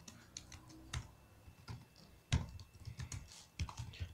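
Typing markdown text on a computer keyboard gives irregular, close key clicks and taps in uneven bursts, quiet and with no talk.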